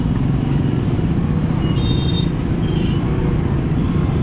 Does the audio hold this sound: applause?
no